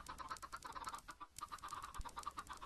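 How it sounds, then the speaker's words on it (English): Chickens in a Minecraft-style modded video game keep up dense, overlapping clucking and chattering that fills the scene steadily at low volume, with no voices. "chickens!"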